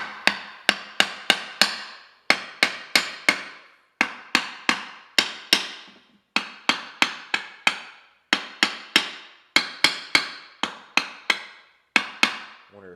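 A hammer strikes engine parts on a 1968 110 being readied for installation, sharp metallic taps arriving in quick bursts of four to six blows separated by short pauses, loud and close, with no talking.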